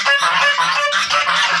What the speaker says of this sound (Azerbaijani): Qazları.